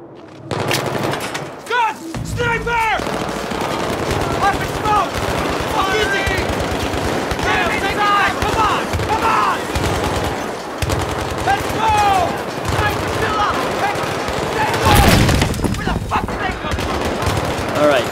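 Rapid machine-gun bursts and scattered gunshots fill a Battlefield 3 firefight, close and sustained, with shouted voices and combat noise mixed in.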